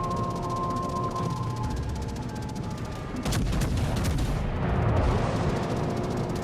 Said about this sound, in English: He just took a blind shot there